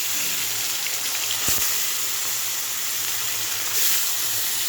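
Fish coated in salt and turmeric frying in hot oil, a steady loud hiss and sizzle that runs throughout, with a couple of brief clunks of handling near the pan.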